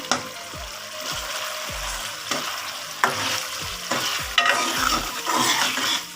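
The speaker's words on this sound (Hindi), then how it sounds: "इसको हिलाएंगे ताकि सारे आलूओं के अंदर ये अच्छे तरीके से मिक्स हो जाए।" Potatoes and eggs for an aloo anda curry are stirred in a sizzling pan, with repeated spoon knocks and scrapes against the metal over a continuous frying hiss, close and fairly loud.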